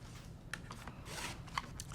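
A blade slices through quilting fabric guided along a ruler, a soft crunchy rasp in short bursts close by, with a few small clicks and taps at the end.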